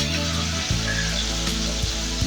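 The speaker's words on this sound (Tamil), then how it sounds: "இந்த எறாத்தலையை அப்படியே எடுத்து ஃப்ரை பண்ண வேண்டியது தான்" Masala-coated prawn heads fry in hot oil with a steady, loud, dense sizzle and crackle that runs unbroken from start to finish, with no voices.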